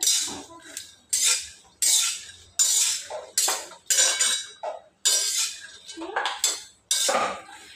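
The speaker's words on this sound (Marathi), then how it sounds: "आता आपण शेंगदाणे भाजून घेऊया" Dry peanuts are scraped and rattled across a hot griddle over medium flame in about ten quick, evenly spaced strokes, close and crisp.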